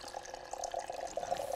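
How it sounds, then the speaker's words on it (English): Filtered water runs into a pour-over coffee kettle, a brief, light splashing trickle with a gurgling texture, close and fairly quiet. "we're gonna get ready to fill this kettle with water"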